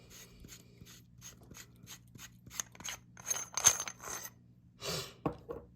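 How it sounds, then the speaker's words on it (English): Metal SP Sabers High Ground Elite lightsaber chassis pulled out of its hilt, giving a run of close, regular ratcheting clicks that speed up into a louder scraping slide, then a few final clunks and a soft rasp. "So I'm going to pull the chassis back out."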